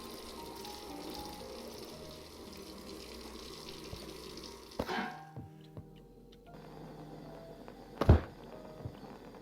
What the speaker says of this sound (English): take the lid off, and we're going to fill it up with 20 liters of water